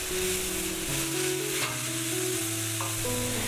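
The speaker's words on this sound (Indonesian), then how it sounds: "Tumis kecambah bersamaan bumbunya hingga tercampur dan tentunya udah matang." Bean sprouts stir-fried with spices in a pan give a steady, loud, continuous sizzle with faint scraping of stirring throughout.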